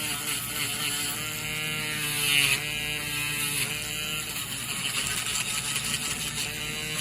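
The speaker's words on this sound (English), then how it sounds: "Now we'll get the Dremel and then get you cleaned up." A Dremel rotary tool grinds down a thick fungal toenail, giving a close, steady high-pitched whine whose pitch dips briefly as it bears into the nail.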